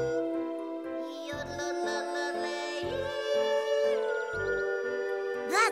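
Cartoon character yodeling in a mountain setting, a bright sung voice leaping between high and low notes over a steady musical backing, with rhythmic low thumps and a rising vocal flourish at the end.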